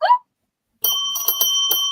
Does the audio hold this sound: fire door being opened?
no